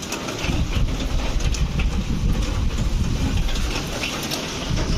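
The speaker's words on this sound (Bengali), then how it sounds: "এই কার সেটের জন্য বৃষ্টির আওয়াজটা আবার পাই" Heavy rain drums on a car shed roof, a dense continuous hiss and patter close by with no voices, holding steady throughout.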